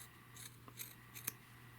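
Scissors trimming crocheted yarn strands on a sock monkey: three quiet, crisp snips spaced across under two seconds, close by with no talking.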